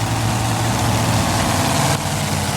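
Three 540 cubic inch Chevrolet engines power a tractor pull vehicle at a 1987 pull in Hamburg. They give a loud, continuous, close-up roar with heavy low rumble that holds steady and dips slightly near the end.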